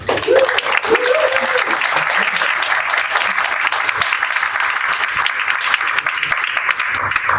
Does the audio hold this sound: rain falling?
no